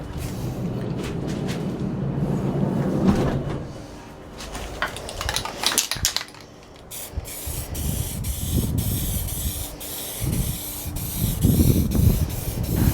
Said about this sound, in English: fire on some spray paint